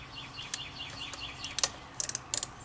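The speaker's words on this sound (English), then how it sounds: "make sure that your socket is on tight. And yeah, I'm spinning it the wrong direction." Socket wrench ratchet clicking while spinning on a car wheel lug nut during a tire rotation, light mechanical clicks early then sharper bursts of rapid ratcheting near the end.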